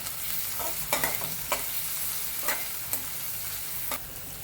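Chillies stir-fried with onion in a pan for fried rice give a steady sizzle, with repeated scraping strokes of a spatula at irregular intervals, close by and without talk.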